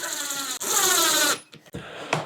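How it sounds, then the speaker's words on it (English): A cordless drill on a low torque setting drives stainless steel screws back into a Pelican 1560 protector case while refitting its wheels. It gives a loud, steady whir of about a second, then brief, quieter bursts as the screws seat. "I'm just gonna screw these back in, keep the drill on a low torque setting, and don't over tighten"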